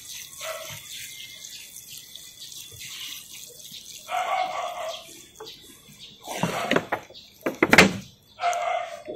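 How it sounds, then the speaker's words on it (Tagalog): Water is poured onto potting soil over freshly sown tomato seeds, coming in intermittent splashing and trickling bursts with clunks of handling between, close and fairly quiet. "kailangan natin basahin ng tubig yan"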